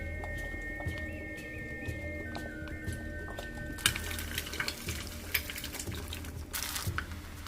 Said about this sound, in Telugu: రైస్ మొత్తం కూడా ఇలా కలుపుకున్న తర్వాత హై ఫ్లేమ్లో 1 మినిట్ ఇలా వేయించుకోవాలండి